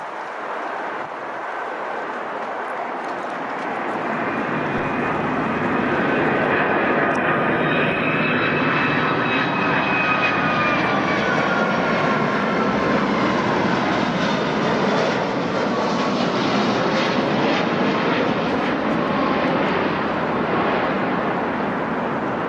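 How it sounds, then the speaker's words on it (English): A United Airlines Boeing 757-200 arriving from Los Angeles roars loudly and steadily, its jet engine noise swelling in the first few seconds and then holding a broad, sustained rumble with a whining tone on top. "United Airlines Flight 2096 now arrives from Los Angeles with yet another Boeing 757-200."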